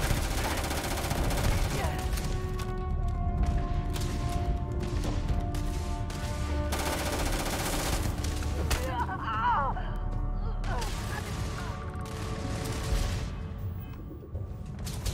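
Repeated sharp zapping shots from a laser weapon in the space game Starfield ring out in irregular clusters over a busy game soundscape, some volleys rapid and crackling, others isolated snaps with lingering tonal hum between them.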